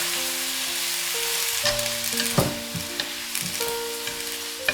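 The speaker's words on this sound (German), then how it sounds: "Tofu in die Pfanne geben, gut rühren." Tofu stir-fried in a hot pan with bean paste, black beans, scallion, ginger and garlic for Sichuan mapo tofu, a steady close sizzle with scattered scraping stirs and light clatters.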